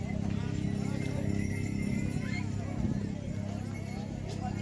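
Horses and mules clip-clop along the stone trekking path to Kedarnath, their steady hoofbeats blending with a busy murmur of pilgrims and trail noise throughout.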